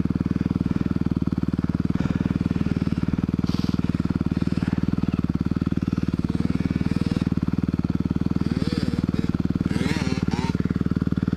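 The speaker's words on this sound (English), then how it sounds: "I could really lean into the turns on this bike." A 2021 Honda CRF 250R dirt bike runs continuously, its single-cylinder engine buzzing loud and close in a steady rapid pulse, with brief voices breaking through near the end.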